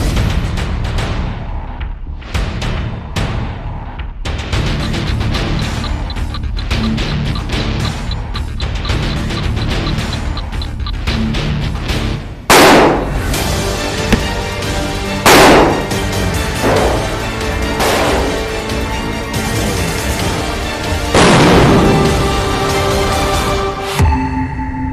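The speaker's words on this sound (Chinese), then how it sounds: "不到1分钟的时间，因此发生了剧烈的爆炸，高腐蚀性的液体正在腐蚀桌面" A self-heating food pack's powder reacting with water inside a sealed bottle bursts with a series of loud, sharp bangs and cracks, several explosive pops scattered over a busy, rumbling background.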